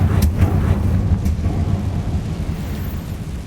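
A Confringo blasting spell explodes in Hogwarts Legacy, a loud low rumbling boom with a few crackling hits at the start that slowly fades into a steady roar.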